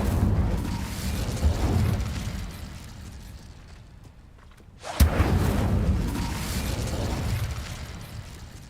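An Incendio fire spell cast in Hogwarts Legacy: a roaring burst of flame and rumbling that fades into a quiet lull, then a sharp loud blast flares up and keeps roaring.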